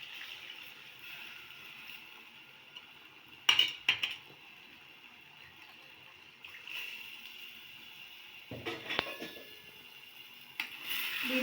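A spoon stirs a tamarind mixture in a cooking pan, giving quiet scraping and a few sharp metallic clinks against the pan, with brief wet swishes between stretches of near silence.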